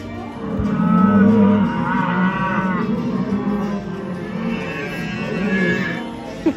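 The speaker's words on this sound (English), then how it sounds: "There's cows in there." Recorded cattle moo in long, drawn-out low calls inside a Disneyland attraction, several overlapping bellows against a steady ambient background.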